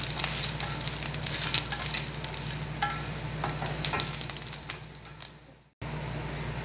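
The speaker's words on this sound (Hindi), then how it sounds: "मैंने 2 लहसुन के जवे लिए हैं चॉप किए हुए। अब हम इन्हें लाइट फ्राई कर लेंगे।" Two chopped garlic cloves lightly frying in a pan, a close, lively sizzle with spatula scrapes and crackles that fades out near the end before a brief cut to quieter pan noise.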